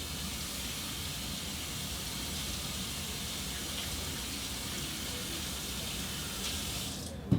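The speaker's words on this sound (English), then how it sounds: "I'm gonna rinse my hands off" Tap water runs steadily as hands are rinsed under a faucet, a continuous close hiss of flowing water lasting several seconds before a brief clunk at the end, with no talking.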